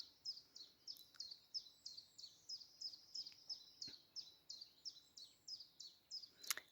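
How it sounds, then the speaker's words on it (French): Small birds chirp in a quick, steady series of high, bright notes, fairly faint and at a distance, with no talking. "vous entendez les petits oiseaux?"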